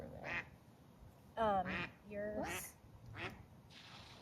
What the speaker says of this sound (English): I think it was a baby duck.